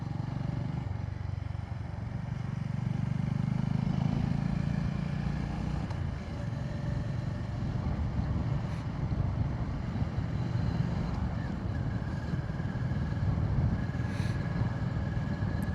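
Honda GB350S single-cylinder motorcycle fitted with a DNA air filter, riding along the road with a steady engine drone and rising revs, heavy wind buffeting and rumble over the microphone, no talking.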